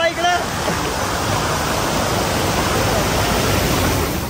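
Water sprays steadily from a hose onto a Ford Mustang during an outdoor wash, a loud, continuous hiss close by that lasts throughout.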